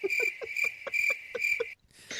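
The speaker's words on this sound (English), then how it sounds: "Yeah, that's right, crickets." Crickets chirp in a steady, rapid pulsing trill, close and clear with nothing else around, then break off abruptly near the end.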